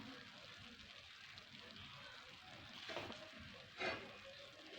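Semolina and walnuts roast in a pan for Turkish semolina halva, giving a steady close sizzle. Two louder scraping bursts from stirring come near the end.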